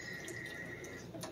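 Water running steadily from the outdoor kitchen faucet of an RV after the system is first switched on, a faint continuous hiss and trickle with no talk.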